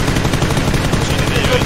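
A rapid, loud burst of gunfire in a ranked match of a shooting video game, aimed at a moving bike. It forms a dense continuous stretch of shots.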